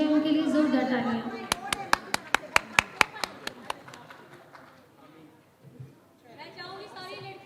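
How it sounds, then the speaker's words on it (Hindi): An audience at an award ceremony gives a guest a burst of about a dozen evenly spaced, sharp claps that fade out, with a voice speaking before and after. "उनके लिए जोरदार तालियां।"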